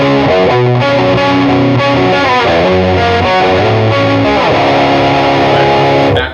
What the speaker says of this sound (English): the main rhythm track of the guitar, is going to go back to the very opening riff, right? But this time with distortion